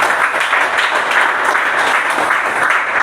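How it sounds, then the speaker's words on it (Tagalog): A church congregation gives sustained, loud, dense applause that holds at an even level throughout, with many hands clapping together. "Palakpak."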